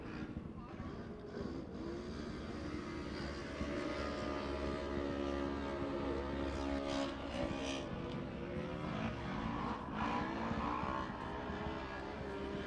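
Race car engines from a CORR Pro class off-road truck race, a steady dense roar of vehicles working through the turns of a dirt track, loud and continuous for the whole stretch.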